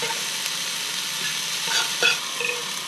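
Steady sizzling of an omelette with onion frying in a pan, with a few scraping stirs of a utensil against the pan near the end.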